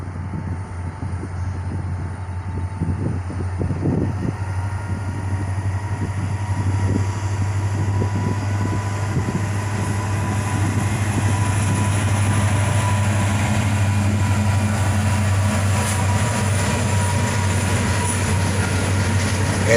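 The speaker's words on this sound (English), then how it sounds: "right after that, this Lorem ballast cleaner would go by." Loram ballast cleaner rail vehicle rolling past outdoors, a loud sustained rumble of wheels and machinery with squeals and clatter, steady and close throughout.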